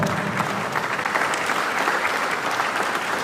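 A dinner audience at a fundraising seminar applauds the panelists, loud, dense clapping from a full room that carries on evenly throughout with no talk over it.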